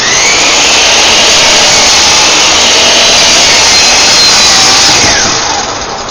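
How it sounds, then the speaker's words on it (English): Power saw scoring the thin veneer layer of a plywood nightstand side, a loud, steady high-pitched whine held for about five seconds before tapering off as the blade winds down. "we're going to make a little score cut"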